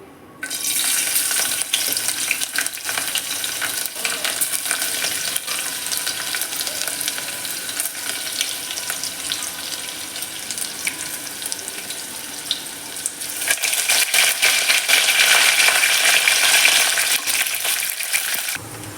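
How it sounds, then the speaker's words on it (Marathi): Garlic, coconut and curry leaves fry in hot oil for a tempering, giving a loud, continuous crackling sizzle that holds steady throughout and grows a little brighter toward the end. "फोडणीमध्ये मस्त लसूण खोबरं"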